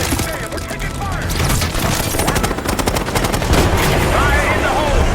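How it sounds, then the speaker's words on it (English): Gunfire in the video game Call of Duty Black Ops 6: dense, loud bursts of automatic weapons fire with booming impacts, continuous through the whole stretch, mixed with faint voices. "Hey, we're taking fire!"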